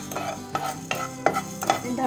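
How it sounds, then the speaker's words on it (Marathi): Coriander seeds dry roasting in a hot kadhai, stirred with a few distinct scraping strokes at a steady rhythm over a light crackling sizzle, close and clear with no talking. "धणे थोडेसे आपल्याला भाजून घ्यायचे, जास्त खरपूस नाही भाजायचे, जरासे."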